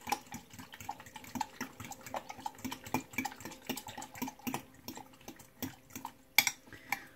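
A spoon stirring cucumber mint lemonade in a pitcher, giving a steady run of light clinks and watery swishes against the container, with one sharper knock near the end.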